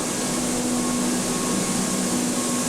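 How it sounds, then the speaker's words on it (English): Industrial compressor running on the compressor floor of a flour mill, a steady, unchanging mechanical drone with a faint tonal hum, loud and constant with no talk. "Onto the compressor floor."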